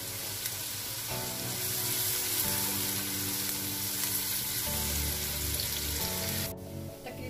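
Chicken and vegetables fry in a pan over medium heat, a steady close sizzle with stirring shifts throughout and no voices.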